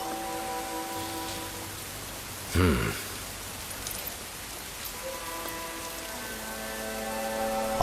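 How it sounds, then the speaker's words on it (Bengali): Steady rain patters softly on surfaces beneath sustained tonal music, with one brief louder burst partway through. "তোমার সন্তানের পবিত্র আগমনে এই অঞ্চলে বৃষ্টি বর্ষিত হলো।"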